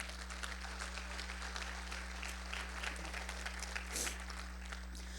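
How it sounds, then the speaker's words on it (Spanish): A church congregation applauds during a sermon, a steady, moderately loud clapping over a constant low electrical hum, with a brief louder burst near the end. "Denle un aplauso al Señor."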